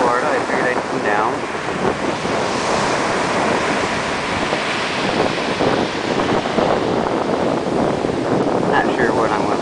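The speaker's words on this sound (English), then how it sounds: "video of the ocean" Ocean surf on a Florida beach, a continuous loud wash of breaking waves with heavy wind buffeting the microphone throughout.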